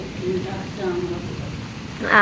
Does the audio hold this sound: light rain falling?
yes